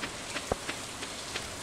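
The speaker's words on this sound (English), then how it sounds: "It's raining." Rain falling in the farming video game Stardew Valley: a soft, steady, fairly quiet hiss of rainfall with a few faint droplet ticks scattered through it.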